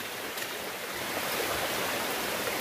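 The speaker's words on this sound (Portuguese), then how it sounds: "Mas tem uma cachoeira muito show ali em cima." A steady, broadband rush of falling water roars continuously from a nearby waterfall in Bom Jardim, with no voices over it.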